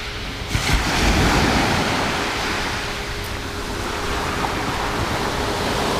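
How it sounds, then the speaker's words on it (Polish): Steady surf rolls onto a beach at Gili Meno, a continuous broadband wash of breaking waves with light wind noise on the microphone, moderately loud and unbroken, with no voices. "tutaj plaża jak widzicie jest jedna, jedna właśnie z lepszych plaż w tym miejscu"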